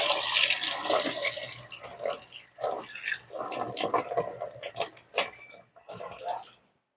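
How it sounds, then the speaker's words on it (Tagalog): Bay leaves being rinsed under a running kitchen tap, with water splashing and spattering in uneven bursts, fairly close; the flow breaks off briefly in places, and faint voice sounds mix in with the water. "Hugasan muna natin to kasi minsan may mga amag-amag tong laurel."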